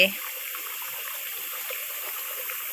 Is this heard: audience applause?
no